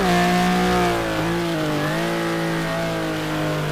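Race car engine and tires in the racing sim GTR2 at Silverstone, a loud steady high-pitched engine drone that dips briefly as the driver lifts, then pulls on again, heard close with no voices.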